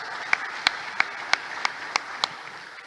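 Evenly spaced claps from a church congregation keeping a steady beat, about seven sharp hits over a low background wash, somewhat distant and mixed together.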